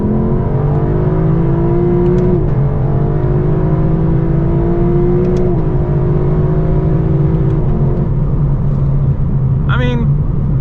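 A Lexus LC500 accelerates hard from inside the cabin, its engine rising in pitch with brief dips at each gear change and a loud, steady rumble throughout.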